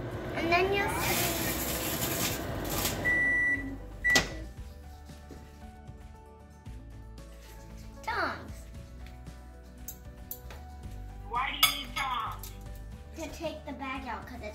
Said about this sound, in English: You gotta put the bag in and close the microwave.